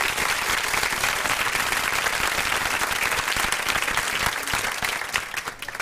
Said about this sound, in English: That was an applause for Andrea, by the way.